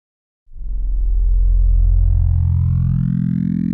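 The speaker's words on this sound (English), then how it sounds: "The end result is a distorted translation of the sine wave, whose sonic character is determined in large part by the actual contents of the table." A synthesizer wavetable oscillator scans its table to produce a distorted sine wave, starting abruptly after a brief silence and sustaining loudly with a rich, rising buzz of harmonics that gradually brightens.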